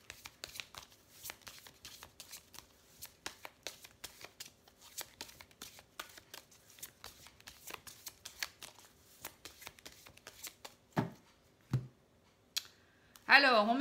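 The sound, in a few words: shuffling oracle cards for a reading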